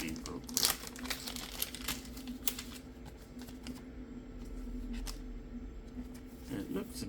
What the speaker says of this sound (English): Let me get the sleeve real quick.